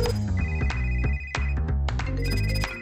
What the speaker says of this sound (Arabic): هاي الرنة اللي عم يستنوها الأيتام لتأمين مستقبلهم